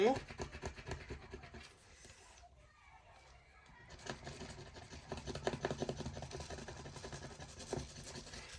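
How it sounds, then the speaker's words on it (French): A coin or nail scraping across a scratch card in short rubbing bursts, fairly close, with a brief pause partway through before the scraping resumes. "Et on va gratter là."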